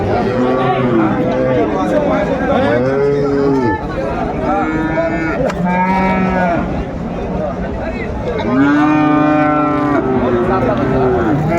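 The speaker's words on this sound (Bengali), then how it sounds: "একটি গরু দেখছেন" Several long, low moos from Sahiwal cattle at a cattle market in Ambari, Dinajpur, rise and fall over busy crowd chatter, some calls overlapping, fairly close and loud.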